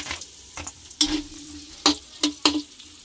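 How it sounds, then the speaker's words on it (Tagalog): Onions sautéing in hot oil for tofu and pork, a low constant frying hiss broken by several sharp spatula scrapes and clicks against the pan, without speech. "pipirituhin natin itong sibuyas"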